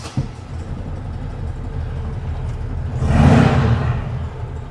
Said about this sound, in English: when the engine warms up, it'll smooth out more